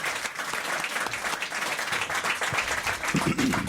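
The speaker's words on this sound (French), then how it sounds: "Regardez, elle revient pour Pierre, sous les applaudissements" Studio audience applause on a French television talk show, a loud, continuous wash of many hands clapping throughout, with cheers or voices mixed in beneath.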